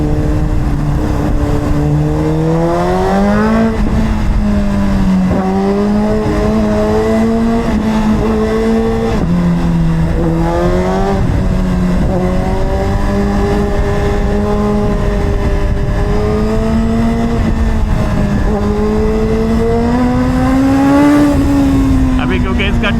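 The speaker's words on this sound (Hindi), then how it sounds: "जिक्सर का साउंड एक्रा पोवेक या योशिमुरा के साथ" A Suzuki GSX-R 1000RR with an Akrapovic or Yoshimura aftermarket exhaust drones loudly from close by on a busy road, its pitch rising and falling through repeated throttle changes, with a rider speaking over the engine.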